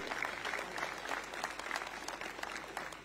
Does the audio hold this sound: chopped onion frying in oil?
no